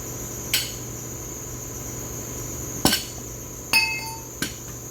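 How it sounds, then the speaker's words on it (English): A slap hammer strikes the front door of a 2016 Honda Accord four times at irregular intervals, sharp metallic clanks with a faint ring over a low steady hum. "let me get the slap hammer"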